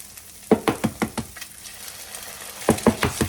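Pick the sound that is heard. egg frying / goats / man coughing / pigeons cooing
egg frying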